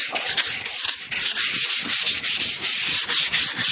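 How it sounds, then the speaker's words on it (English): Close, rhythmic scratching of sandpaper rubbed by hand over the body of a 1988 Cadillac DeVille, quick repeated back-and-forth strokes with no talking. "And then so just keep on sanding it."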